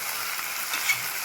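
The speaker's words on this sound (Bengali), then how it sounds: "মাংস রান্না করছি, দেখো কি দারুণ কালার এসছে।" Meat sizzling in a frying pan as it cooks and takes on colour, a steady close hiss with faint scraping and one small clink, no talk.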